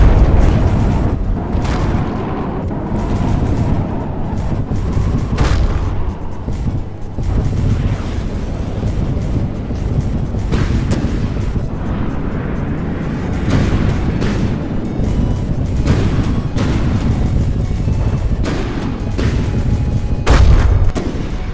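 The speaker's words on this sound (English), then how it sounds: "Let's take a look at the missile destroyer. A look at that burst of missiles." A missile destroyer in a naval combat video game fires a sustained burst of missiles, with repeated booming launches and blasts over a steady rumbling roar that runs throughout.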